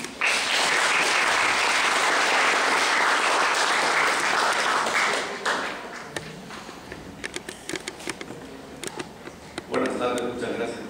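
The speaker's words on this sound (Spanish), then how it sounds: "muchas gracias por los aplausos" A seminar audience applauds for a speaker at an electoral behaviour session, with loud, dense clapping for about five seconds that then thins into scattered claps and shuffling, followed by a brief final burst.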